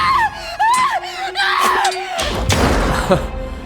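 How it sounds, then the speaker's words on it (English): Repeated pained screams and yells ring out in a Tyranny battle, several wavering cries in quick succession, then a crashing, shattering impact and a rumbling thud as the fighting continues. "Nice screaming"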